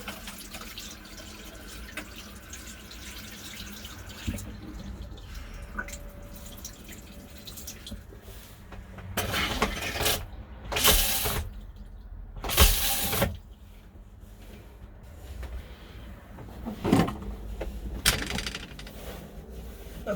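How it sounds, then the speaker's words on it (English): Water flows through a freshly repaired Thetford Aqua Magic Style II RV toilet valve and supply line, a faint steady hiss with scattered drips and several louder gurgling spurts as air is pushed out. "now we turn the water on"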